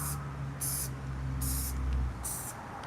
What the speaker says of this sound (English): let me spray these into the color black